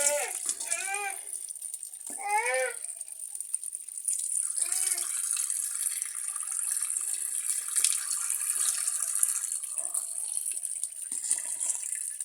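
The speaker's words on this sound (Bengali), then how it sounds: "প্রথমে চালগুলো সুন্দর করে ধুয়ে" Water from a kitchen tap gushes steadily while rice is rinsed by hand for khichuri, a continuous close rush with faint splashes, and a voice sings briefly near the start.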